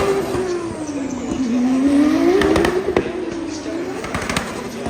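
Formula 2 race cars at Silverstone during the 2023 British Grand Prix race day roar past with a rising and falling engine whine, crowd and commentary noise beneath.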